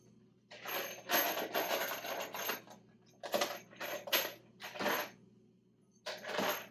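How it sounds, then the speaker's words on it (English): Small metal screws being picked up and jostled together while a deer antler set is mounted, repeated bright metallic clinking bursts in quick rattling clusters, close and moderately loud with brief pauses between. "I'm going to grab my screws."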